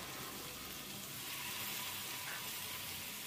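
Ginger garlic paste frying in hot oil in a pan beside ivy gourd (dondakaya) for a curry, making a steady, even sizzle that holds at the same level throughout.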